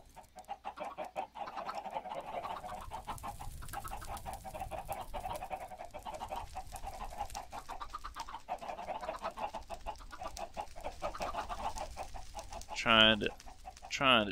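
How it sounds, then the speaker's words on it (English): Chickens cluck throughout a Minecraft farm, a steady busy layer of game fowl sounds with a couple of louder bursts near the end. "There's chickens everywhere."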